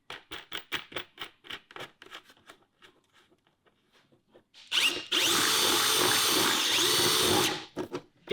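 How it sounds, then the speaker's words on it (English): A power drill drives tech screws into a plastic bucket, its loud steady whir running for several seconds after a run of scraping and rubbing noises, then a few rubbing strokes after it stops. "it's because my drill's not quite the right size"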